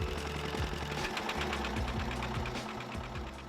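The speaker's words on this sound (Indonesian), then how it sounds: "Debur ombak dan deru mesin perahu bersautan mengiringi perjalanan saya menuju Pulau Biawak" A boat engine at sea on a night crossing from Karangsong harbour to Biawak Island churns out a steady, close, knocking rumble that continues without a break, with no voices.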